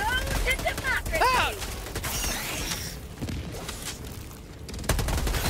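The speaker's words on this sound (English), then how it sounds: "I shot a teammate" Rapid sharp gunshots and crackling fire from the co-op shooter Helldivers 2, a steady stream of close shots with a voice talking over the noise.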